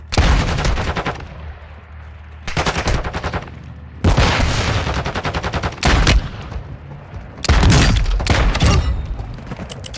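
Loud, close gunfire in the video game Warzone 2.0 comes in four rapid bursts of repeated shots, separated by short quieter gaps.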